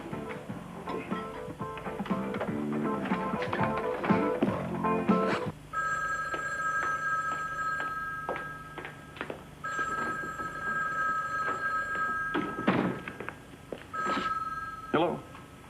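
A telephone in a 1987 drama scene, first dialed with rapid clicking and tapping, then ringing in repeated electronic trills at the other end, close and clear with brief handling noise between rings.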